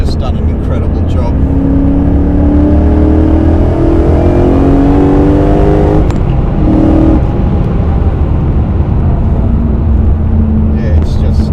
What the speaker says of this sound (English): the sheer acceleration on this thing is just unbelievable